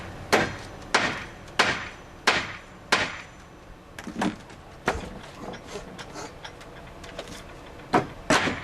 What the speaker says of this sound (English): I'm going to try to take a hammer, just tap this down a little bit more if I can.